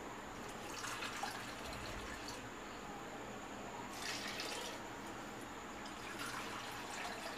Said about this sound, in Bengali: এবার তিন বাটি জল দেবে